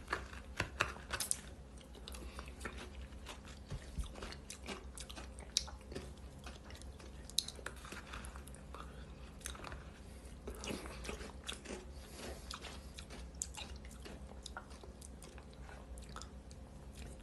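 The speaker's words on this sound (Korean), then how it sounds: "지금 깍두기 씹는 거" Kkakdugi (radish kimchi) eaten with gukbap, heard as close, repeated crunchy chewing and biting that goes on steadily without talking.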